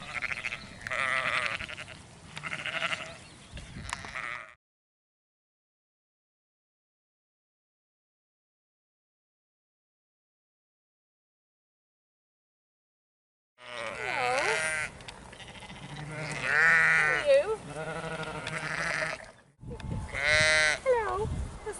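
Sheep on a farm bleat in a series of loud, close, wavering cries, one group at the start and a longer run of calls near the end, separated by a long silent gap.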